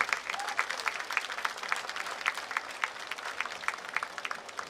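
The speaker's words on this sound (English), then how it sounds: "Please give them a round of applause." Applause from a graduation ceremony audience honoring school board trustees, steady clapping with distinct individual claps, moderately distant and continuous.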